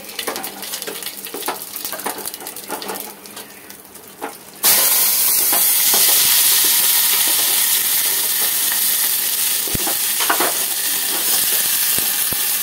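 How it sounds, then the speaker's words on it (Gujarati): Spices for tempering a vegetable side dish drop into hot oil and hit with a sudden loud burst. Dense sizzling and hissing follow and hold steady. Before the burst there is a quieter frying and stirring background, with no talk. "એક બાજુ સંભારાનો વઘાર"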